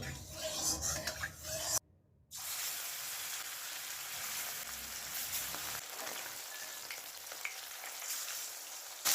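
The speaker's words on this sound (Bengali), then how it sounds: "গ্যাসটাকে হাই ফ্লেমে রেখে মাছগুলো ভেজে নেব" Fish frying in mustard oil in a wok over a high flame makes a dense, even hiss close by, with one brief gap early on and no talk.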